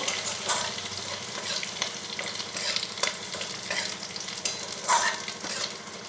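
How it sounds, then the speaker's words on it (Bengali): Two dried red chillies, crushed garlic and a little whole cumin sizzle in hot oil, with a steady crackling fry broken by repeated scraping stirs, close and alone with no voices. "রসুন আর শুকনো লঙ্কা ভালো করে ভেজে নিয়েছি"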